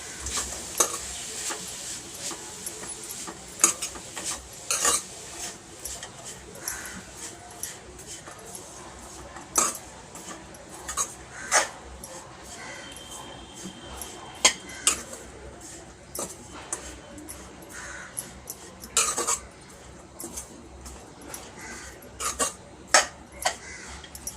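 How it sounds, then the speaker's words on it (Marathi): Jaggery melting in a pot is stirred with a metal spoon, sharp scrapes and clinks against the pot's sides repeating irregularly and close by, over a faint background hiss. "गूळ चांगला मेल्ट होईपर्यंत आपण हे ढवळत राहायचं"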